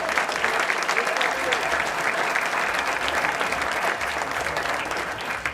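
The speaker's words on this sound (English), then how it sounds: "Let's give our inductees a round of applause." Steady, dense audience applause fills a school hall of fame induction ceremony for athletic inductees, sustained and even throughout without a break.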